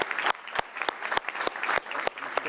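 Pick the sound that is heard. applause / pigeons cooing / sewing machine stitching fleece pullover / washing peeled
applause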